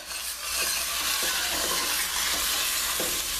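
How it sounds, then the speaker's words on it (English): Vegetables sautéing in hot oil are stirred in a pan, a steady loud sizzle running throughout with soft, irregular stirring scrapes over it, close up. "The oil was hot. I threw everything in, and I'm just stirring it."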